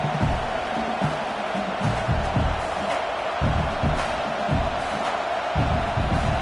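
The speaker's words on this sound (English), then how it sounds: "This crowd trying to do its part to get inside the kicker's head." A stadium crowd in the College Football 26 video game, South Carolina against Tennessee, roars continuously to rattle a kicker, with a dense, steady wash of noise and scattered low thumps throughout.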